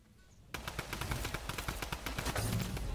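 Rapid gunfire from the video game Fortnite bursts in after a quiet start, with dense repeated shots growing louder and more continuous.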